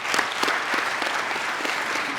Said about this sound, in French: Je pense qu'on peut applaudir une dernière fois Marie-Laure.